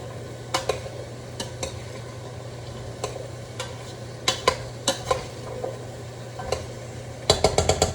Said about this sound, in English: you're just going to want to mix in those carrots and the celery